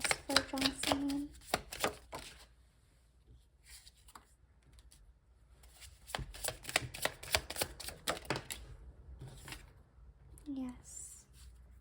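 Tarot cards are shuffled and drawn in quick riffling bursts and soft slaps, close by, with a voice speaking briefly at the start and end.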